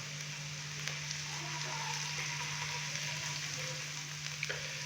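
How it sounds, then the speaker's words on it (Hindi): Ginger garlic paste frying lightly in a pan, a steady soft sizzle and crackle with a faint low hum underneath, no talking. "अदरक और लहसुन के पेस्ट को हल्का सा मैंने कर लिया है फ्राई"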